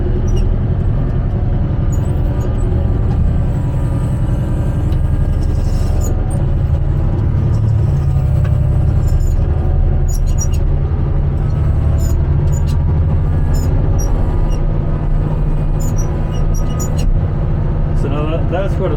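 An articulated loader drags loose 20mm gravel back along a curb, its engine a steady, close, loud rumble throughout with gritty scraping on top, and a voice speaks over it.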